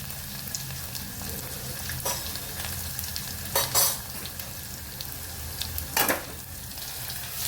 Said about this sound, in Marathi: लालसर होईपर्यंत लसूण भाजून घ्यायचं आपल्याला